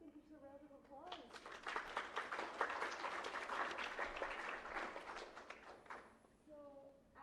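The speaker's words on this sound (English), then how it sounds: "First, I think it's a round of applause." Audience applause at a community talk about a food equity fund, a few seconds of scattered, fairly quiet clapping that rises and fades, with a voice speaking just before and after.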